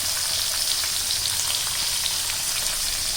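Garlic and onion fry in hot coconut oil while lemon pickle is made, giving a steady, close, even sizzle that crackles continuously with no voices.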